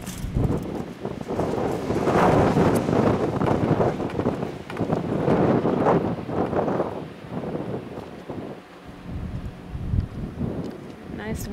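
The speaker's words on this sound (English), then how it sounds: "It is windy." Strong wind roars and buffets the microphone in heavy gusts outdoors at a truck camper, rising and falling, with some rustling and a voice faintly underneath.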